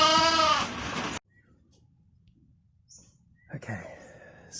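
Sheep in a pen eating lucerne, one close bleat that cuts off into near silence, followed by faint rustling and a brief second call at the end.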